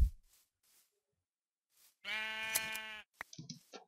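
A sheep bleats in the Minecraft video game, one clear, buzzy, sustained bleat close by and alone, followed by a few short clicks.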